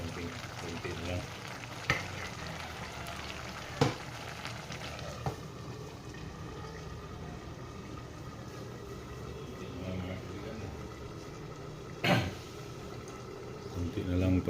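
A pot of beans bubbles and simmers steadily, with a bubbling, sizzling texture and a few sharp knocks, while someone speaks now and then.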